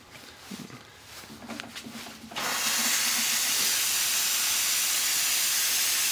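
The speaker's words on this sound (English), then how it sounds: "Seems there could be a bit more steam than that." Steam hisses loudly from the wand of a Rancilio cappuccino machine, starting abruptly after a few seconds of quieter mechanical sounds and then holding as a steady, close, broadband rush.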